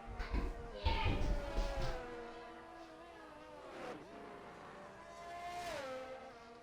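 Several race cars from a sim racing game, a league round at Saudi Arabia, whine past close together on track toward the pits, rising and falling engine tones fading in and out under occasional commentary talk.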